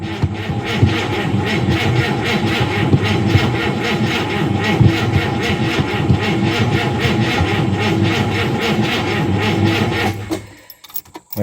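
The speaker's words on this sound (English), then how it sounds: "let's just give it a crank, shall we? She's cranking slowly." A car engine, the yellow S1, cranks slowly and steadily on a weak battery, a loud rhythmic churning that runs for about ten seconds without catching before cutting off.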